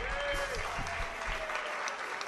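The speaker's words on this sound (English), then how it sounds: "how about a big round of applause for everyone having a birthday tonight?" An audience applauds at a club show with a live band, a short burst of clapping and crowd noise with a sustained musical tone underneath.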